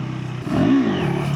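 A KTM SMC-R 390 motorcycle in third gear revs up hard as it accelerates, its engine note rising and falling in a loud, close, steady surge with no talk over it.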